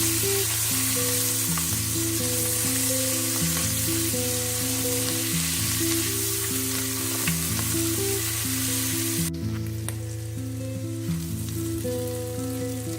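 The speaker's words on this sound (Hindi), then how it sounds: "अब आपने मसाले को 1-2 मिनट भून लेना है" A ground spice paste for dum aloo fries in hot oil with cumin, giving a continuous, even sizzle heard close up, with background music running underneath.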